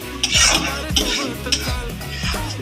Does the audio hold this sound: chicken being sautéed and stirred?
yes